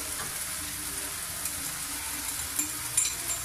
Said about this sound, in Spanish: se deja sofreír otro poco